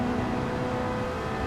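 A Ferrari race car engine in Gran Turismo 7 holds a sustained high rev in a long fifth gear, a steady, moderately quiet tonal whine with no talking over it.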